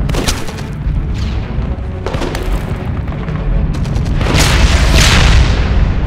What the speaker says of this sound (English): What's even shooting us?